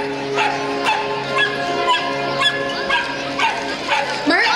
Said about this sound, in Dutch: Omdat Bico net zijn oefening zo netjes heeft uitgevoerd, mag hij nog 1 keer even bijten.